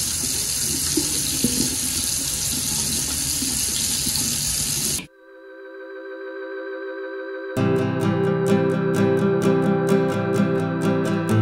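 Tap water runs steadily into a sink during face washing, a loud continuous rush lasting about five seconds, then breaking off abruptly.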